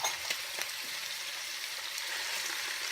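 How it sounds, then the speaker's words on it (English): Ground pork searing in a pan, a loud, even, hissing sizzle that runs steadily throughout, with a few faint taps near the start. "ground pork in there and sear it"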